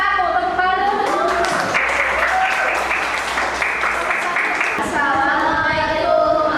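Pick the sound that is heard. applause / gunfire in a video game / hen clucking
applause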